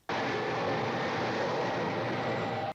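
Nuclear-armed airplane in the film Dr. Strangelove, a steady, continuous engine roar that holds evenly, then cuts off abruptly.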